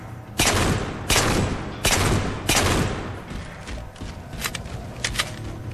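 Loud, heavy gunfire from a pistol in Halo 4, four sharp shots spaced about a second apart, followed by lighter scattered shots and game noise.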